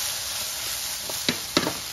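Opo squash sautéing in a pan, a steady soft sizzle with a couple of brief clattering bursts as the pan is shaken to brown the pieces.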